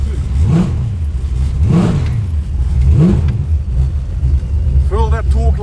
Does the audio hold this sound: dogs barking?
no